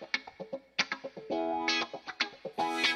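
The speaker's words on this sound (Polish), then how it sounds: "Mam tu na przykład gitarę, która nazywa się Disco Wah." Disco Wah live guitar preset on a Ketron SD9 keyboard, choppy funky wah-filtered guitar strums and muted chanks in a quick rhythm, close and alone with effects colouring the tone.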